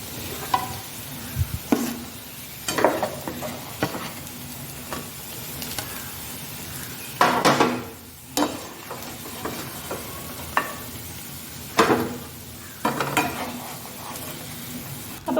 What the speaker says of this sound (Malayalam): ഒരു മിനിറ്റോ 2 മിനിറ്റിൽ ഇത് വറുത്തെടുക്കാം.